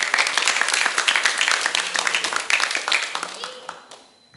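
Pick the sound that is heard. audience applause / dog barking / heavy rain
audience applause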